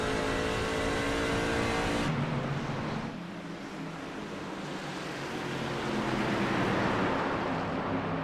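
A NORA Truck Series racing truck in a video game race at Milwaukee runs at high speed with a steady loud engine drone that shifts pitch partway through, and no talk over it.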